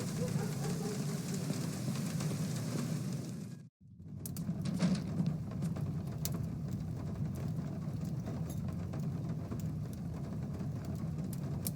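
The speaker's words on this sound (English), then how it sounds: "Raining again." Steady rain in the video game The Black Mirror hisses continuously with a low rumble beneath, briefly cut off for a moment before resuming at the same even level.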